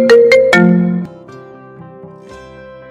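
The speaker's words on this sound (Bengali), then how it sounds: "তোমার ফোনটা বারবার বাজছে, একটু ধরো প্লিজ।" A mobile phone ringtone plays loudly and close: a few sharp chiming notes, then a sustained tone, followed by a quieter melodic run of bell-like notes.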